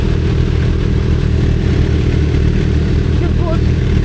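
A Kawasaki ZX10R sport bike engine revs loud and close in a steady dense roar, with people talking over it.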